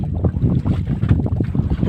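Strong wind gusts ahead of an approaching typhoon buffet the microphone in rough, rumbling bursts, loud and close with no other sounds.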